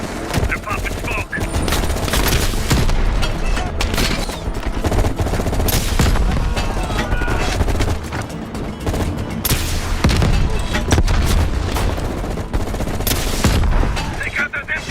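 Dense machine gun fire and rattling bursts ring out in Call of Duty Black Ops Cold War, loud and nearly continuous with scattered booms, while voices call out over the battle.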